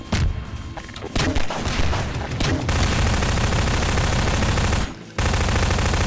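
Rapid gunfire in Garry's Mod, a dense sustained burst of shots filling most of the clip with a brief gap near the end, loud and close.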